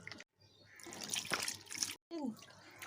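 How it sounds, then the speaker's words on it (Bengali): Flour dough being squeezed and washed in water by hand, close wet squelching and sloshing in uneven bursts separated by brief gaps, with a voice speaking near the end. "এরম করে চটকে চটকে ময়দাটাকে ধুয়ে নেবো"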